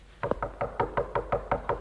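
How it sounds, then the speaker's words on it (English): Steady, insistent knocking on a wooden door, about eleven firm raps in an even rhythm, close and fairly loud with no voices. "Are you trying to knock the door down?"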